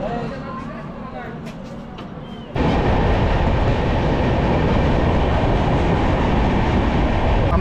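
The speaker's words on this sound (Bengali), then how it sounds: "এখন ট্রেন এসে ঢুকলো জলেশ্বর স্টেশনে" A train pulls into Jaleswar station, a quieter rolling sound jumping to a loud, dense roar of wheels and carriages partway through, heard up close from aboard.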